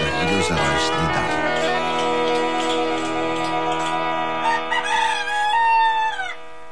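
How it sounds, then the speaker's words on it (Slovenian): A rooster crows in a long, loud, drawn-out call rising and falling, close and clear, in a children's cartoon setting with a tonal, musical quality. "Če bi petelin zjutraj ne zapel"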